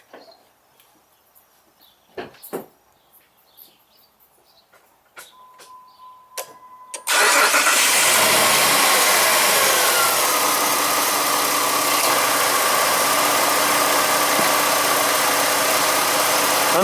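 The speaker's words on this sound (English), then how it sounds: "Cold start." A 2006 Jeep Liberty Limited with a V6 engine is cold-started. A few faint clicks and small knocks come first, then the engine catches abruptly and settles into a loud, steady, close idle that holds to the end.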